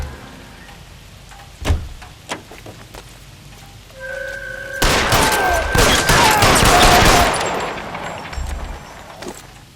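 Gunfire in a shootout from L.A. Noire, a few sharp isolated shots early on, then a dense, loud crackling burst of rapid fire from the middle onward that slowly tails off, with no talking.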